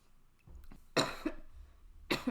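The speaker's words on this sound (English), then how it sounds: "I've been coughing for this whole week" A person coughs in a few short, sharp bursts, close and fairly loud, separated by brief quiet gaps.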